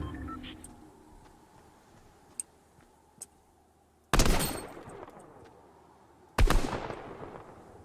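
Two loud rifle shots in the Fortnite video game, spaced a couple of seconds apart, each a sharp crack with a decaying echo, over faint ticking game ambience, no voices.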